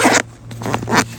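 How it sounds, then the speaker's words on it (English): Zipper on a CVLIFE 40 L military-style backpack, two quick close zipping strokes separated by a short pause, near and fairly loud against a low steady hum. "Very nice zippers."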